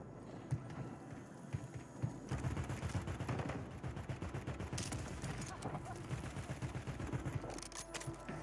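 Gunfire in the video game Warzone, ranked mode: sharp single shots early, then a rapid burst of automatic fire with clattering footsteps and action sounds, at moderate loudness.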